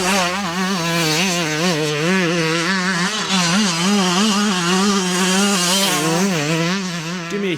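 A motorcycle engine fitted with a Lectron carburetor runs close by, its idle wavering and blipping up and down in repeated revs over several seconds, without any talk.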